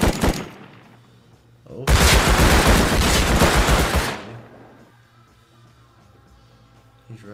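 Sniper and gunfire in the video game Rust Console Edition: a short burst of shots, then a loud sustained volley lasting about two seconds before fading, with a brief exclamation from a player near the start.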